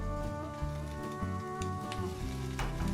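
Chopped onion, garlic, ginger and dry red chilies sizzle steadily in a hot pan for a palak paneer base, a continuous close frying hiss with no talking.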